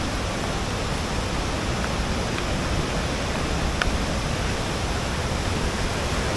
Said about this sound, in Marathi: हा समोर अगदी बघा दिसतो धबधबा